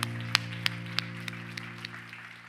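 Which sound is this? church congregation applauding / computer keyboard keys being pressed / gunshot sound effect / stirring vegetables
church congregation applauding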